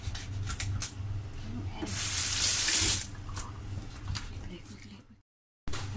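A crab is rinsed under a running kitchen tap, a steady hiss of water into a sink that swells louder for a moment, with a voice talking over it and a brief cutout near the end.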